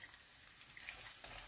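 Onions frying in a pan that was just used to cook burgers, giving a steady, soft sizzling hiss with faint crackles throughout, close but quiet.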